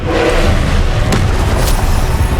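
A Confringo spell explosion in Hogwarts Legacy: a loud, sustained booming blast with sharp cracks and pops spread through it.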